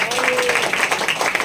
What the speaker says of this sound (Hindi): जोरदार ताली में परमेश्वर की महिमा के लिए।